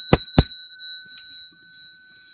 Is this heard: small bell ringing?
yes